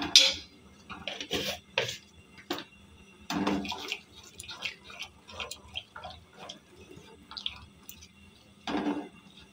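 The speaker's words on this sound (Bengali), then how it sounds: "বারবার এভাবে নাড়তে থাকবেন, তাহলে পাতিলের নিচে দুধটা ধরে না যায়।" Irregular clinks and scrapes of a spoon against a pot while milk is stirred for payesh, sharp close taps scattered over a quiet simmer.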